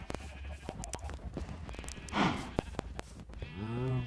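Minecraft cows and sheep call in a row of blocky mooing and bleating, with a clear low moo near the end over a busy game background and no talk.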